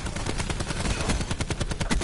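Rapid automatic gunfire in Call of Duty: Black Ops 4, shots coming through a wall, a dense continuous burst of loud, evenly spaced cracks filling the whole moment.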